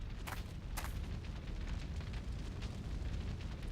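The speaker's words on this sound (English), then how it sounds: "Oh, more explosions." Battle explosions in the Shadow Hearts video game rumble without a break, a heavy low roar punctuated by a couple of sharp cracks near the start, loud and heard alone.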